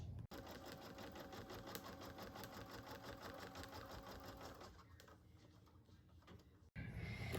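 An in-the-hoop embroidery machine sews a tack-down stitch, a close, steady, fast mechanical chatter that runs continuously, briefly cuts out, then resumes.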